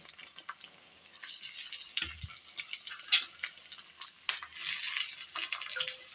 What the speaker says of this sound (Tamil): இப்போ வதங்கின வெங்காயத்தில் நம்ம ஏற்கனவே கட் பண்ணி வச்சுருக்க தக்காளி பழத்தை போட்டுக்கலாம்.